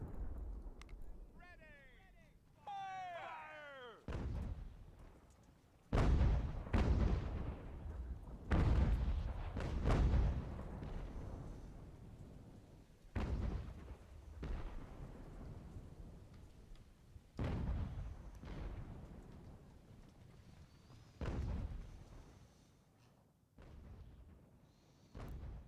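Cannon and artillery fire in the Ultimate General: American Revolution strategy game, a series of deep booming blasts with rolling decay, spaced irregularly a few seconds apart and fairly loud, with someone talking between and over some of the shots.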